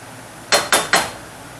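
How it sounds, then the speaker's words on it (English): A metal lid settling onto a pot of walnut chicken, three quick close clanks in rapid succession, each ringing briefly before fading. "Now you're going to cover this and let it simmer"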